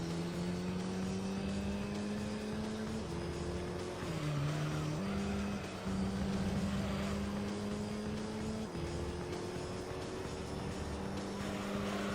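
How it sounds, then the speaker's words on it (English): A Gran Turismo 3 race car drones with a steady engine tone that dips and recovers as the e-brake swings it around, with tire squeal mixed in over a constant game soundscape. "Good old e-brake rotation."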